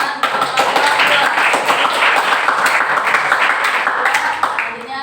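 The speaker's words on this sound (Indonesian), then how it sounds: "beri tepuk tangan untuk kelompok dua" Students in a classroom applaud for the second presentation group, a steady burst of close, dense hand clapping lasting about five seconds before tapering off at the end.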